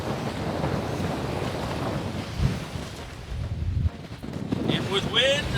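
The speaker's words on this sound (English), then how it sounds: "And with wind and water, you get waves." Choppy waves slap and wash around a fishing boat on rough, windy water, a close, continuous surging roar with a few louder splashes and gusts.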